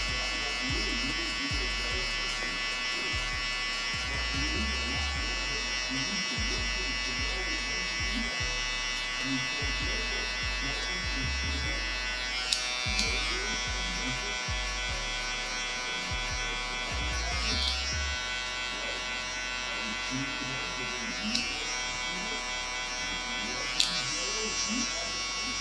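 Electric hair clippers buzz continuously and close up while cutting a taper haircut at home in a garage, with the motor pitch dipping as the blades pass through hair and a person talking over it.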